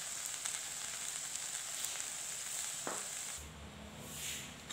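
Sugar and cardamom being stirred into steamed puttu in a pan, a continuous soft hissing, scraping texture with a brief clink near the end, close and moderately quiet.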